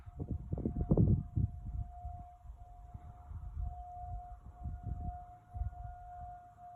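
Distant Federal 2001 tornado sirens sounding during a test near Memphis, a steady faint wail held under low rumbling outdoor background noise, with louder rustling and handling sounds near the start.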